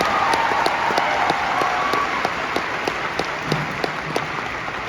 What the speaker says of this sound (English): Could you indulge me and give them a round of applause also?